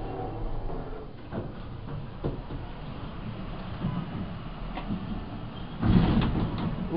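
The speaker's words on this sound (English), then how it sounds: "Ooh, stuttery doors." A Precision elevator at 7009 Austin Street in Kew Gardens, New York, with a glass back, has doors that stutter open and closed, giving soft repeated thumps and rattles over a steady mechanical hum, with a louder clunk near the end.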